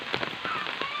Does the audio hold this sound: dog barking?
no